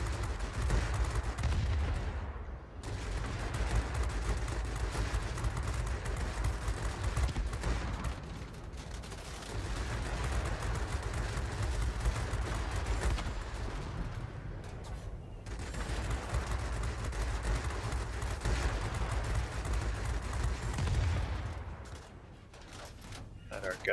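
Aircraft machine guns fire in World of Warplanes aboard a Tupolev Tu-1 Soviet heavy fighter, loud sustained bursts broken by short pauses, with engine drone beneath.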